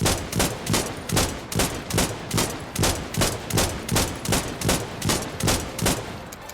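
Rapid, evenly spaced video game gunshots fire in a steady burst, a dozen or more sharp cracks in a row, loud and close.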